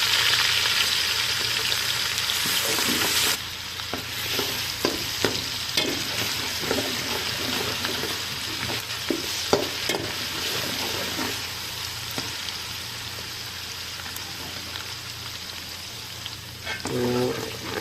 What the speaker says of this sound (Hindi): अभी हम इसमें लहसुन और अदरक का पेस्ट ऐड कर देंगे और इसकी अच्छे तरीके से बुनाई करेंगे